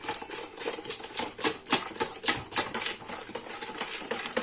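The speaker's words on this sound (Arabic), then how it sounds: "نخدموا هذا البيض والسكر مزيان" Eggs and sugar are whisked together in a bowl for a Moroccan fekkas batter, a fast steady rhythm of metal tines scraping and ticking against the bowl, close and fairly loud, with no talking.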